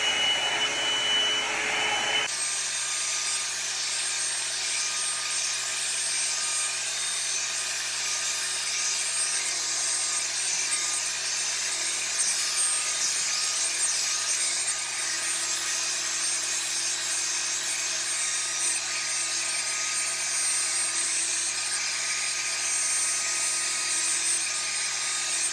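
A hair dryer runs steadily on its high setting for a salon-style blowout, a loud, continuous whooshing roar with no talk over it.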